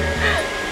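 A hair dryer runs indoors nearby, a brief steady airy whoosh with a faint motor whine.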